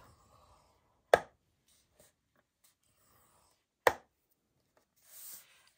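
Paper cardstock cut to 11½ by 4¾ inches being scored for a mini notebook cover, two sharp separate snapping presses in a quiet room, with faint light handling rustles between.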